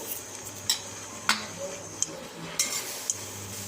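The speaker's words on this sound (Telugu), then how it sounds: "ఇదిగోండి మునగాకు లైట్గా సిమ్లో పెట్టుకొని స్టవ్ వేపుకోవాలండి." Dry drumstick leaves roast in a pan on a low flame without oil, a soft continuous crackle broken by sharp clicks and scrapes of stirring, close and fairly quiet.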